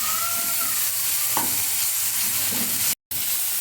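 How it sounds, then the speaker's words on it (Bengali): Tomatoes and chopped chili fry in a pan while a spatula stirs them, a constant loud sizzle with a few scraping strokes and a brief dropout near the end, no talking. "দিয়ে আর একটু নাড়াচাড়া করে নেবে।"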